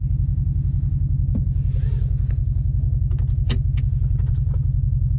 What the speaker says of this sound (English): Let the car warm up a little bit and off we go to the store.